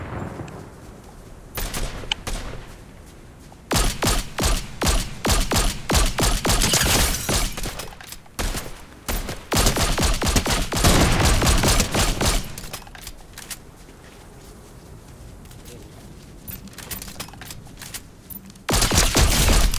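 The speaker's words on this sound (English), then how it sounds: "I shotgunned him with a pistol." Shotgun and pistol gunfire in the Fortnite video game, loud rapid bursts of shots fired in repeated volleys with short pauses between, close and dominant, with a final flurry at the end.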